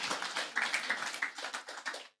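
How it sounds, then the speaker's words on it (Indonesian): A church congregation applauds with dense, rapid hand clapping that rises and falls in small swells; the sound is fairly soft and continuous, with no voices on top. "Tepuk tangan bagi Yesus yang di rumah juga."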